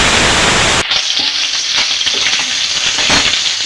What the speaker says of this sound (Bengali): এবার তেলের মধ্যে নুন হলুদ মাখা মাছগুলোকে